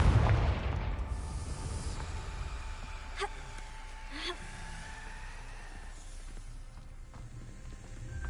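A Confringo blasting spell goes off in Hogwarts Legacy: a loud, broadband burst right at the start, followed by two sharper, fainter cracks a few seconds later over a steady, rumbling game ambience.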